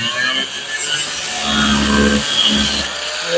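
A power tool cuts through metal while frame connectors are fabricated for a 1975 Plymouth Duster, making a loud, close, continuous rasping grind for about three seconds.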